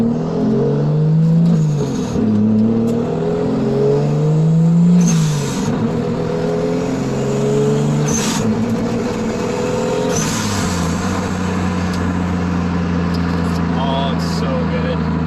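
A Toyota Supra MA70 on a night cruise revs and shifts, its engine note rising and falling close up inside the cabin, then settling into a steady drone; someone talks over it.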